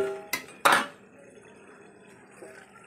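A metal lid comes off a cooking pot of chatu: two sharp metallic clanks in quick succession ring briefly, then fade into quiet room tone with a soft knock near the end.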